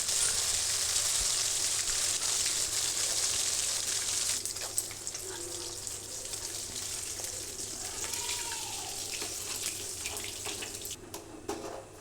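Pomfret fish sizzles in a pan with a bright, continuous hiss that is louder at first, then settles into a softer crackle with faint splashes.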